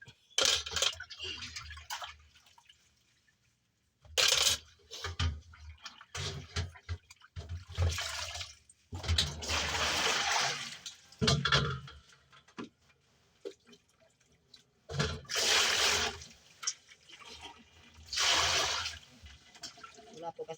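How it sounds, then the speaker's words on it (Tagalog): Running water gushes and splashes in intermittent bursts, with clattering between them, while a person talks in the pauses. "Samahan niyo po ako maghugas ng pinggan."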